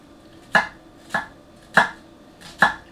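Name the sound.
gyuto knife slicing a peeled onion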